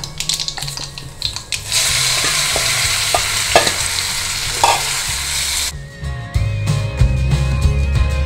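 Asafoetida tempering crackles and sizzles in hot oil while a spoon stirs it, a steady loud frying hiss with scraping strokes, then a softer bubbling simmer near the end.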